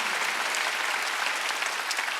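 A church congregation at a Wednesday worship service applauds in a steady, dense wash of clapping that holds evenly throughout, moderately loud, with no voices over it.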